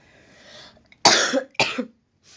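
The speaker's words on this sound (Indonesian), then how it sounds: "batuknya awet." Two sharp, close coughs in quick succession, preceded by a faint breathy sound, with silence between them.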